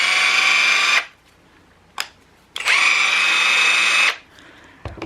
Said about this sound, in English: Nice and silent brushless motor there